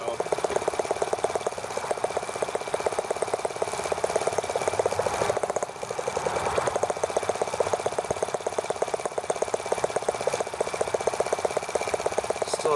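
A T26 engine idles steadily after starting, a dense continuous mechanical drone with fine rapid pulsing that holds at an even level throughout, with only a brief dip partway through.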